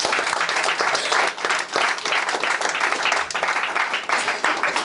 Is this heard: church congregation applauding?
yes